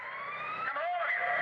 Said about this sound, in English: God, that sounds like the Enterprise alarm.